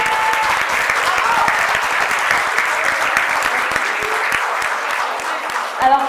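An audience at an anime convention applauds costumed cosplayers, dense sustained clapping filling the room at full strength for several seconds, with a faint voice or two surfacing near the end.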